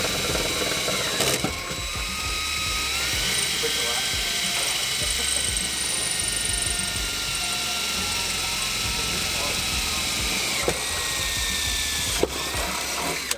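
A power drill with a 1/4-inch bit bores holes into the floor of a Toyota 4Runner, giving a steady, close, high-pitched whine and grinding that runs continuously, broken by a few sharp clicks.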